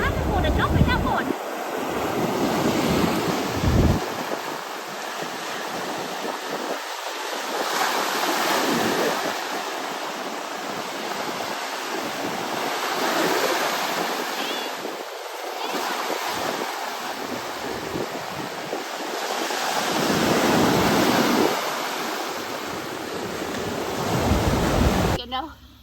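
Ocean waves at a beach roll in and wash out with a steady surging rhythm, broad and fairly loud, with wind buffeting the microphone throughout.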